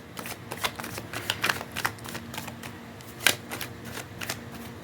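Tarot cards being shuffled by hand, a steady run of soft riffling and flicking strokes with one sharper snap near the end, close and moderately quiet with a faint low hum underneath.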